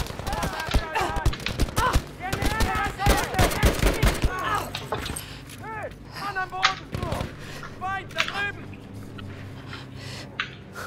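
Bursts of rapid gunfire crackle through a Battlefield 5 campaign battle, dense volleys early then scattered shots, mixed with shouting voices and game sounds.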